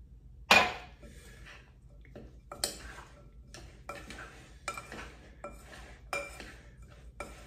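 A spoon stirs a cheddar corn croquette mixture in a bowl, making a sharp initial clink and then irregular soft scrapes and taps against the bowl, quiet and close with no voices.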